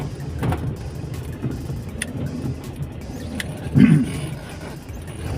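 A car driven along a road, a steady low engine and road rumble that holds throughout with a brief louder swell near the end and no talk.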